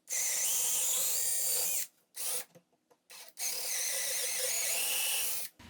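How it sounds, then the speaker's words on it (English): A power drill bores dowel holes through one wooden piece and into another surface, a loud steady high whine running in long bursts with short pauses and brief spin-ups between them. "So I'm drilling through this and then into the other surface"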